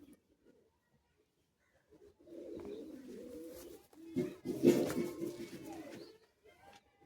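Two big Andhra pigeons coo softly at close range, a low rolling call that rises and swells midway, with quiet background noise between.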